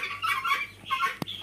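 Chickens on a poultry farm giving a few short, quiet clucks, close by, over about a second with a small knock near the end.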